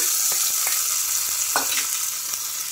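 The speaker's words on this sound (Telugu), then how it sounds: "ఇంకా పోపు కూడా వేసేసుకుంటున్నాను" Hot oil sizzles steadily as tempering spices fry for a chutney, a loud continuous crackle with a few sharper pops, close up.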